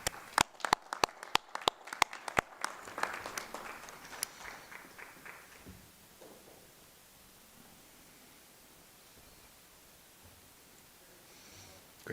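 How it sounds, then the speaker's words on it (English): A few sharp, separate claps ring out in a school board meeting room, then blur into a brief scattered round of applause that fades quickly to quiet room noise. "Let's have a final round of applause for everybody that was recognized tonight."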